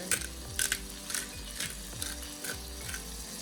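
Salmon fillets searing in a frying pan: a steady close sizzle with a few sharp clicks and taps from a utensil against the pan, with no talking.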